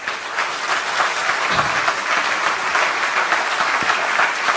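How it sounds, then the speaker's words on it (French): A theatre audience at an award ceremony for a celebrated musician breaks into loud, sustained applause, dense and continuous throughout. "On peut encore l'applaudir."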